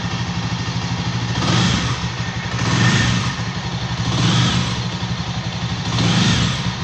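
A Jawa Classic motorcycle engine is revved repeatedly from idle, four rising swells roughly every one and a half seconds, each lifting in pitch and loudness before dropping back to a steady close rumble.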